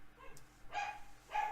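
A dog gives two short barks a moment apart, heard at a moderate distance over a quiet background.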